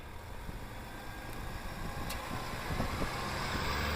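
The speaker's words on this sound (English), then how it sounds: "the sound of the engine. It's definitely a diesel engine." A 2021 GMC Yukon Denali diesel engine drones steadily while driving, a low rumble that grows slightly louder toward the end, with faint rattles from the cabin.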